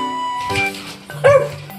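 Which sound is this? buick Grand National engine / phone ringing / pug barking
pug barking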